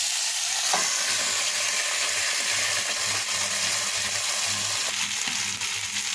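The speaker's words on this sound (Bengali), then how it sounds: "চিকেনগুলো ভেজে নিয়েছি এরকম করে," Chicken pieces frying in oil in a pan, a loud continuous sizzle with occasional stirring scrapes, close and steady throughout.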